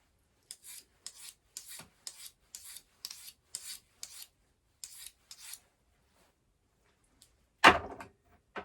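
Knife blade drawn repeatedly across a sharpening stone, about a dozen short rhythmic rasping strokes at steady pace, close and fairly quiet, followed by a single louder knock near the end.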